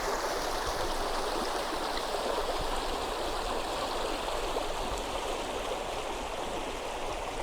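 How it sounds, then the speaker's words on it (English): A river flows steadily beside a trekking camp in the Barrier Peaks, a continuous broadband rush of moving water heard up close and evenly loud, with no voices. "This is the river"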